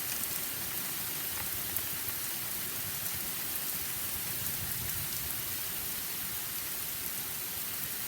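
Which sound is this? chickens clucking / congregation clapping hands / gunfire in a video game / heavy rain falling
heavy rain falling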